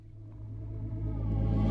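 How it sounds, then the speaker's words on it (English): A reversed boom taken from the ending of a song forms a short transition sweep, a low rumbling swell that grows steadily louder over under two seconds. "I just reversed it and it kind of acted as like a transition, like a little sweep into the song."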